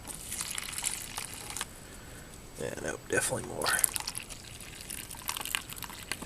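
Hot water poured for a Canadian IMP ration meal, a brief trickling splash in the middle between bursts of someone talking.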